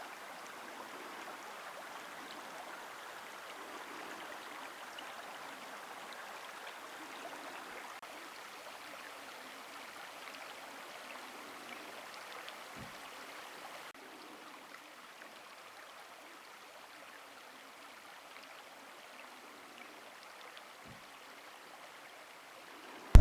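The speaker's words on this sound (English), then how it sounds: "This is the confluence of the Cottonwood and Pariah rivers." Water flowing at the confluence of the Cottonwood and Paria rivers in the Utah badlands, a faint, steady broadband rush of a stream that continues throughout without talk.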